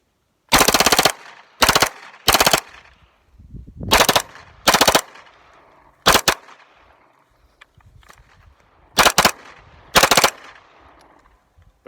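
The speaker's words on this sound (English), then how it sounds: "So finger on the trigger, through the belt loop, bump fire." A CZ Evo pistol bump-fired through a belt loop lets out loud, close rapid bursts of automatic-sounding shots, eight short volleys spaced by brief pauses, each trailing off in echo, with no talking.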